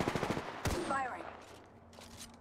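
Gunfire in a PUBG-style battle royale shooter: a rapid burst of automatic shots at the start, then a single sharp report and a trailing whine, fairly quiet overall with another shot at the very end.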